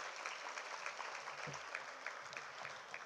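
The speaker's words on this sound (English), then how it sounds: "A big round of applause for Shubhada ma'am," A school annual day audience applauds a preschool headmistress, steady even clapping from a seated crowd heard from a distance, faint and continuous throughout.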